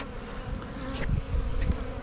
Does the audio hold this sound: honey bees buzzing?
yes